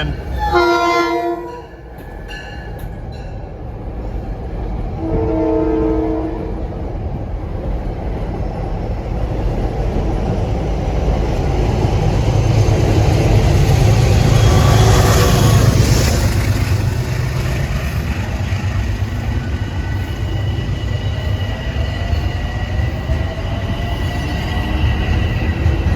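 A deadhead train pulls into a Harlem station, sounding two loud horn blasts early on and again around five seconds, followed by a steady, building rumble of wheels and cars rolling close by.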